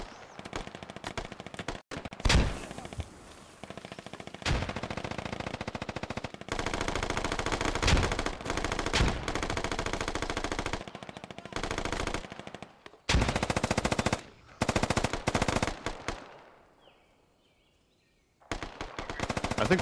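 Sustained bursts of SAW light machine gun fire in a war video game battle, long rapid strings of shots broken by short gaps and a quiet stretch near the end, loud and close.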